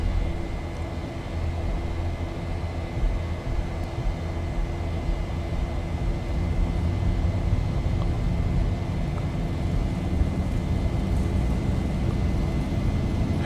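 Boeing 737 engines in X-Plane 11 at takeoff power on the runway, a loud, steady roar and rumble that continues unbroken with no voices.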